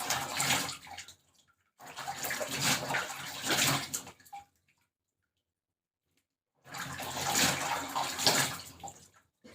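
Lukewarm water splashing during face washing, in three bursts of splashing and trickling separated by quiet pauses, close and fairly soft.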